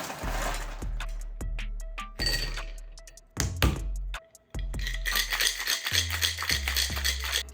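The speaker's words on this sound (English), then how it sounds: "Next, you want to add ice and shake for about 10 to 15 seconds." Ice rattles inside a cocktail shaker while a Ward Eight cocktail is shaken: loud rhythmic clunks and rattles in bursts, with short pauses, close to the listener and with no talk.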